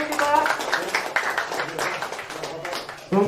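An audience at a creative-industry talk in Salatiga gives a short round of applause, moderately loud clapping mixed with voices, tailing off before a voice returns at the end.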